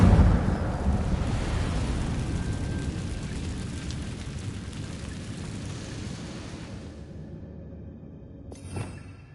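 An Incendio fire spell cast in a video game bursts out as a loud, deep, rumbling whoosh that slowly fades over several seconds, followed by a brief sharp crackle near the end.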